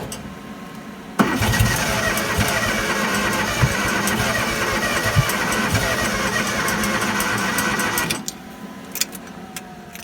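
A skid steer running on a swapped-in lawnmower engine starts and runs steadily and loudly for about seven seconds with a busy mechanical chatter, then cuts off abruptly, leaving scattered clicks and light rattles.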